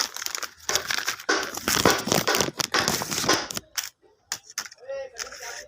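A car battery's paper warranty card being handled, with sharp crinkling and crumpling bursts close to the microphone, then brief pauses and a few isolated crackles.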